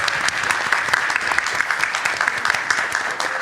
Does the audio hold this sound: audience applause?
yes